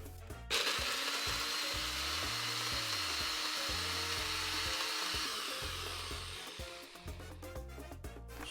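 A kitchen blender grinds a sauce of honey and garlic, a loud steady whirring roar that runs for several seconds after a sharp start, then eases and sputters near the end.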